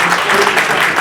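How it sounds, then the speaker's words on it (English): A round of applause from the audience at a talk on identity and social factors, dense steady clapping that fills the whole moment at close range. "Round of applause."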